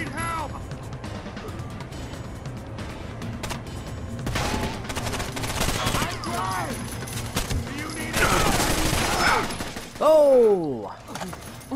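Dense gunfire bursts and scattered explosive cracks from a Rainbow Six Vegas 2 co-op firefight, loud and continuous with several heavier volleys, while players talk over the battle.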